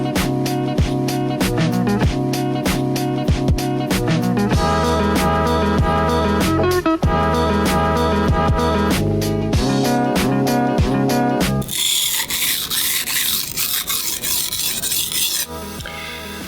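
A kitchen knife scrapes across a whetstone in quick, repeated rasping strokes, steady and close, continuing through the whole stretch with a steady tonal backing underneath.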